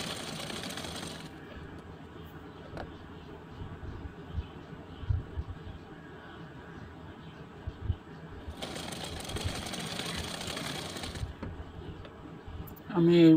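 A sewing machine stitches blouse fabric in two short bursts of steady whirring, separated by quieter handling noise and a faint background hum, with someone speaking between the runs.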